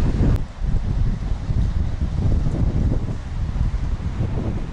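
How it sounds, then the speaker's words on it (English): Cold, strong wind blows across the exposed western coast of Guernsey near Torteville, roaring and buffeting the microphone as a steady low rumble for the whole stretch, with no voices. "Very cold and windy today, but a nice brisk walk nonetheless."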